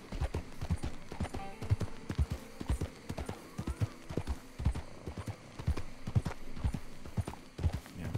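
Horse hooves clip-clop at a steady walking pace in Red Dead Redemption 2, close and regular throughout, with faint occasional snorts from the horse.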